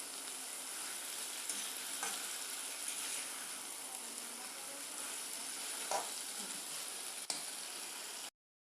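Taro stolons cook in mustard paste with a steady, hissing fry throughout, broken by occasional soft scrapes and one sharp click of a spoon against the pan.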